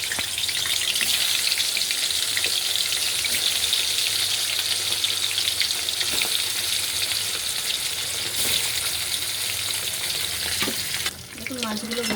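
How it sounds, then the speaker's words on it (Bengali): Hilsa fish pieces sizzle and spit in hot oil in a pan, a loud continuous frying hiss with occasional scraping and stirring clatter and a brief shift near the end. "দেখুন মাছগুলোকে ভেজে নেব"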